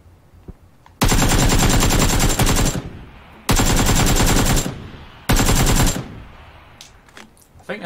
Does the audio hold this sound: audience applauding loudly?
no